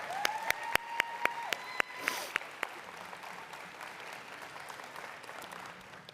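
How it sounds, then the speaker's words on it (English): Applause from the audience at a nursing school pinning ceremony. A handful of crisp, evenly spaced claps ring out nearby over a sustained tone, then thin into a softer, scattered crowd clapping that fades. "Can we give them a round of applause again?"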